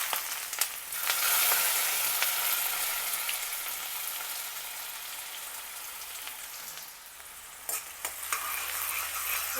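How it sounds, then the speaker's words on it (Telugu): Finely chopped onions fry in hot oil in a pan with a continuous bright sizzle, close and steady, broken by a few stirring scrapes near the end. "సన్నగా తరిగిన ఉల్లిపాయ ముక్కలు వేయించాలి."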